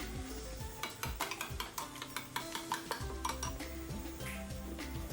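Beaten curd is stirred into cooked rice for curd rice. A spoon clinks and scrapes against the vessel in quick, irregular strokes, close and moderately loud, with no talking.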